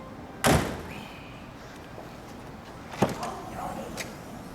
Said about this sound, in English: we'll open the other scissor door.